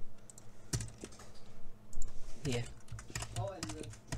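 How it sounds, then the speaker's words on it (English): A loud computer keyboard clatters in quick, uneven bursts of keystrokes during a Roblox Studio session, close to the microphone, while a person talks briefly over the typing. "ignore how loud my keyboard is"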